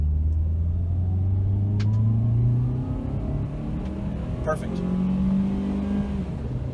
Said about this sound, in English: we're gonna do a heavy throttle acceleration test from a dead stop